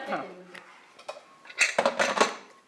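In a kitchen, a plate and pots clatter and clink in a short burst of handling, partly under a voice talking nearby.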